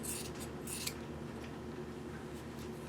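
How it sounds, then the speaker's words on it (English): Scissors trim the corners of a sewn quilt block, a couple of quick crisp snips at the start and then soft fabric rustling. "I'm going to just trim the corners on each side"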